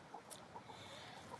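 Backyard chickens cluck softly in short, scattered calls, faint and close, with no voices.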